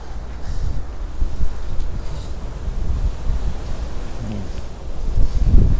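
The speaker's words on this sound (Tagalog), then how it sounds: "Umano pa yung hangin talaga." Strong hurricane wind with heavy rain on Bermuda during Hurricane Fiona, roaring as a continuous loud buffeting rush across the microphone with gusts swelling near the end, no talk over it.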